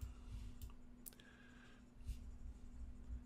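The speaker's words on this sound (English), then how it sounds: "So you double click on it." A computer mouse clicks sharply, a quick double click followed by a single click, faint and close over a low steady electrical hum.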